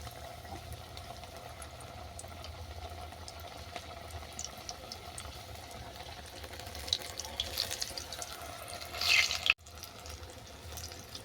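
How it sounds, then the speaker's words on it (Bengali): A quiet, steady bubbling hiss of vegetable pakoras deep-frying in hot oil continues throughout, with a brief clatter and rustle near the end. "তেল গরম হয়ে গেছে আমি এরপর পকোড়াগুলো ভেজে নিচ্ছি"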